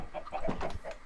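Minecraft chickens in the video game, clucking repeatedly over small pattering footsteps, steady and close throughout with no talking.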